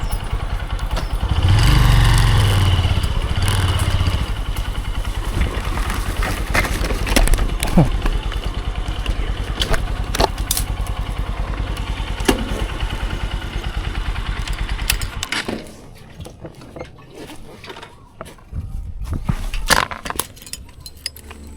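A motorcycle engine runs at a farm among cattle, a steady loud rumble with clinks and clatter for most of the span, dropping off sharply near the end; a voice is heard briefly.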